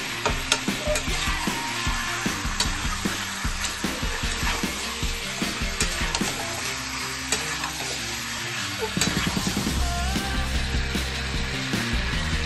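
Chicken cooked with whole garam masala spices (bay leaf, clove, cardamom, cinnamon) and black pepper, stirred in a hot pan: a loud steady sizzle with repeated scraping strokes of the spoon, close up, with no speech.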